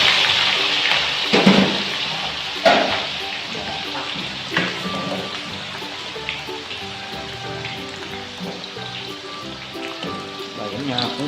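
Water splashes and runs in a village kitchen while spinach is cooked for a clear vegetable soup, a close, fairly loud hiss with clattering and sloshing bursts early on that settles into a steadier wash.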